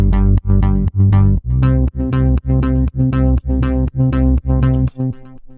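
Layered synth bass lines from an ARP-style synthesizer with the lows cut out, playing a steady sequence of sustained harmonic notes with short gaps between them, loud and up front with no voices.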